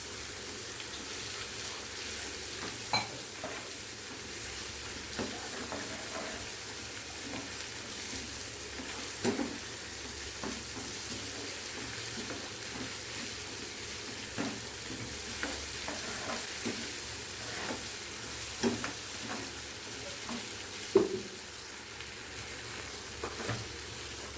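Ginger garlic paste frying in a pan for a prawn curry gives a steady close sizzle, with frequent stirring scrapes and taps over it throughout.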